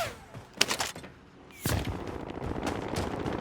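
Gunfire in a battle royale game: a couple of sharp cracks early on, then a louder shot with a ringing tail followed by rough, steady rumble, moderately loud with no talk.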